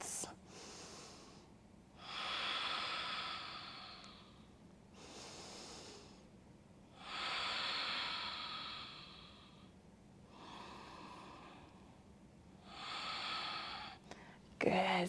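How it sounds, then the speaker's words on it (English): During a vinyasa yoga practice, three slow, deep breaths are drawn in and let out, each a long airy whoosh heard close and clear, with steady pauses between them. "3 big breaths."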